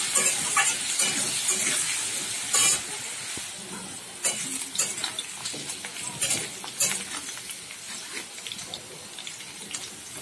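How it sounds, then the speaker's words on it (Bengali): Potatoes frying in oil with salt and turmeric make a steady, fairly loud sizzle and crackle, with irregular bursts and spatters throughout. "দিয়ে নুন হলুদ দিয়ে একটু ভেজে নেব"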